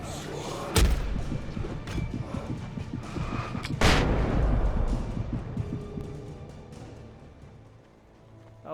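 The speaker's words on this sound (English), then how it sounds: "a flashbang took care of them" A flashbang grenade goes off in the video game Alan Wake Remastered, a sharp loud burst followed by a second heavier blast with booming low rumble and scattered game noise fading away.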